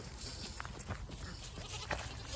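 Faint goat bleats on a farm, a few short calls scattered over rustling outdoor noise, quiet and somewhat distant.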